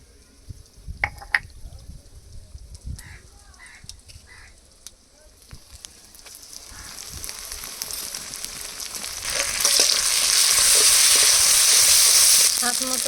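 Onions browned in a pan sizzle as cumin and chilli paste go in, starting with scattered clinks and soft crackles, then rising into a loud, dense frying hiss that holds to the end.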